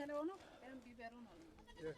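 An ailing goat that tends to lag behind the herd gives a few wavering bleats up close, short and loud, over about two seconds.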